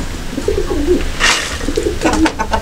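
Pigeons coo in soft, rolling low phrases close by, with a brief brighter flutter or rustle in between and a few more coos toward the end.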